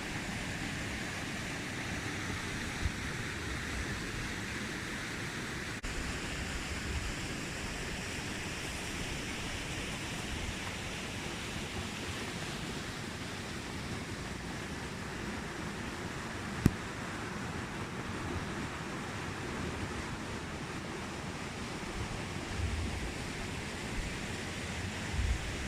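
Fast, high river water rushing beneath a bridge in winter, a faint, even distant roar of flow with a couple of small knocks and no one speaking.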